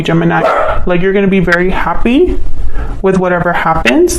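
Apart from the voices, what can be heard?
dog barking in the background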